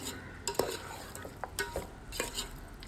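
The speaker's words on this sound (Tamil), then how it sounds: "மிக்ஸ் பண்ணிகிட்டே இருங்க" Vegetables coated in masala being stirred in a pan for veg biryani, giving soft scraping clinks and a low sizzle with a few sharper knocks, steady and close.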